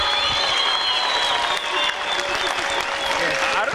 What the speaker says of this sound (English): I don't know what you're clapping for.